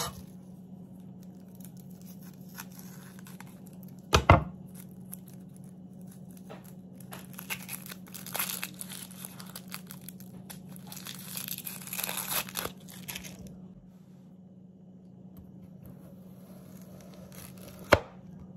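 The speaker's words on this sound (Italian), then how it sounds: "La dobbiamo tritare finemente." Steady knife finely chopping an onion on a board, rapid taps with crisp crunchy cuts, close by, plus a couple of sharper knocks and a low background hum.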